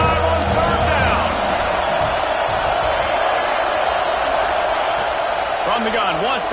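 Buckeye football crowd roaring on third down in a packed stadium, a steady loud wash of cheering throughout with a marching band tune faintly under it and a commentator talking over the noise.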